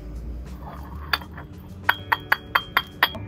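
Glass container being filled with ground rock while making paint outdoors: a quick run of about six bright, ringing clinks in steady rhythm, close and clear over faint background noise.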